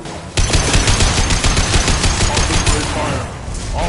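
Sustained rapid automatic gunfire from a squad in the Mass Effect 2 video game, loud and dense bursts starting abruptly and rattling continuously before easing off near the end.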